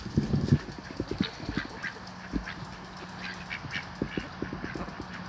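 Ducks quacking and chattering in a group outdoors, a steady low flock murmur with occasional louder calls, alongside other farm animal noises.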